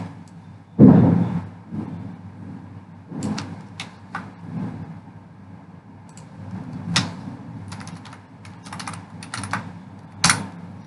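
Typing on a computer keyboard while filling in an Excel sheet: sparse, uneven keystroke clicks in short bursts, with one louder thump near the start, close and quiet otherwise, no one speaking.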